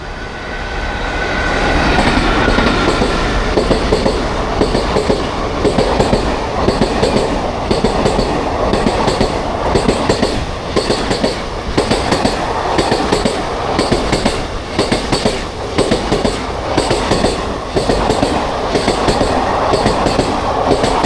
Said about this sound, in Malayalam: ഫ്രണ്ട്സ്, ഇതാണ് നാഗർകോവിൽ കൊല്ലം പാസഞ്ചർ.